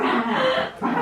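A dog makes short vocal noises, whimpers and yips, at close range in a house, with nearby talk in the room around it.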